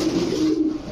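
An army pigeon, a male bird kept on a pigeon farm, coos steadily through the whole second, a close and fairly loud low droning call with no voices over it.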